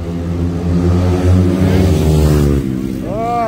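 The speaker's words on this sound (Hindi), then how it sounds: "दोनों बाइक में अभी एग्जॉस्ट लग चुकी है, एकदम खतरनाक साउंड कर रहा है" Sport motorcycles fitted with aftermarket Akrapovic exhausts, such as a Yamaha R15 V4, R15M and KTM RC 200, roar past nearby; the loud, droning engine note holds for a few seconds, then abruptly drops away as they pass.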